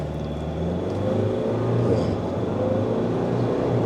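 A Ford Ranger Wildtrak X pickup accelerates hard toward 60 mph after a brake-boosted launch, its engine drone holding steady and loud from the cabin for the whole stretch, with no talking.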